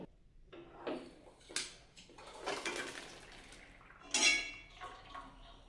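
Boiled rice for vegetable pulao is drained in a home kitchen, with a few separate pours and splashes of water and clinks of a metal pot, quiet and close.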